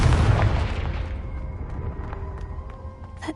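Fiery Confringo blasting spell detonating in the game Hogwarts Legacy: one powerful, close boom with deep rumble, fading over a few seconds into quieter crackling debris and faint tinkling.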